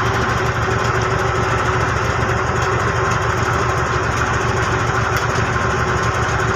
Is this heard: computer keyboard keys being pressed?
no